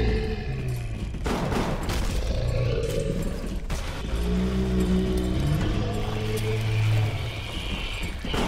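Rapid gunfire in the video game BioShock during a fight with a Big Daddy, with loud, dense bursts of shots layered over a constant roaring din and heavy in-game effects throughout.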